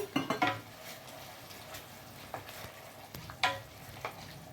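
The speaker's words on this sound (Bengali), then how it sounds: "এবার একটু সামান্য জল দিয়ে দিলাম" A splash of water hits a hot pan of chilli chicken in tomato sauce with a loud hissing sizzle at the start, followed by spoon scrapes and clatters against the pan and further bursts of frying.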